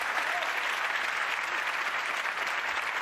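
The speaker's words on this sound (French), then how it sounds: "On va applaudir également tous les producteurs des émissions qui ont été mes complices dans ce truc-là." A studio audience at a French television show applauds, a dense, steady wash of clapping heard close for a few seconds.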